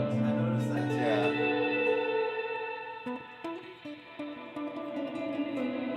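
An electric guitar runs through an Old Blood Noise Endeavors Dark Star stereo reverb pedal, producing sustained, washy chords with shimmering distorted reverb tails, then choppier swelling notes, played alone at moderate level.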